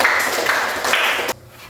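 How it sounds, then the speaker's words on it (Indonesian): A class applauds group 1 with a short burst of close, bright clapping that stops abruptly. "Oke, tepuk tangan untuk kelompok 1."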